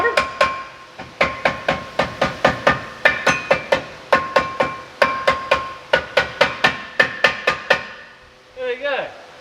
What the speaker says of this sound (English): There's a hammer, dude.